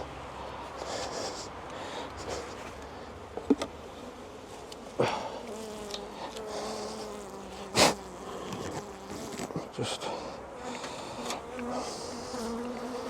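Dense, steady buzzing of honey bees swarming around a very busy hive, a continuous close drone with a few brief knocks and rustles and no talking.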